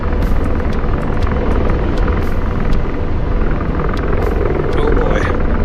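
Helicopter rotor in a combat flight video game, a loud, steady whirring drone that runs unbroken throughout with a voice talking over it.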